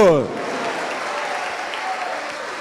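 Church congregation applauding Jesus during a sermon, a steady wash of crowd clapping that follows a brief trailing voice and holds at even strength to the end.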